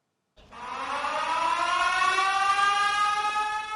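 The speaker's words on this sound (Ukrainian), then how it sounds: "Лунає сигнал повітряної тривоги." An air raid siren sounds at a school during an air-attack alert, starting abruptly and then holding as a loud, rising, sustained wail with layered tones and no talking.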